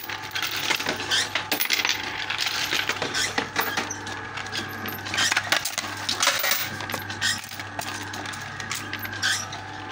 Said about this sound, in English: today I'm just going to be chucking the coins in front of the pusher